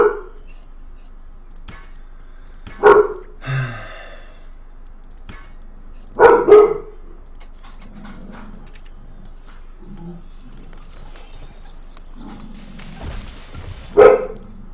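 A dog in the video game Stronghold Crusader 2 barks in three short, sharp bursts spaced several seconds apart over quiet game ambience, with a few softer yelps and murmurs between.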